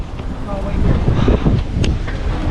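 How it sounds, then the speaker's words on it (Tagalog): Strong wind in Edmonton, Alberta buffets the microphone outdoors, a loud rumbling roar with gusty low-end bursts that swell and fall over a couple of seconds. "Lakas ng hangin, grabe"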